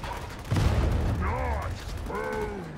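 Grenade blast in the video game Darktide, a deep booming explosion with a rattling mechanical tail, followed by a couple of swooping whistling game effects, loud and continuous.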